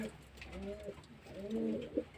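Domestic pigeons in a loft with nest boxes give soft, low cooing calls, two rounded coos in quick succession, faint and close against a quiet room background.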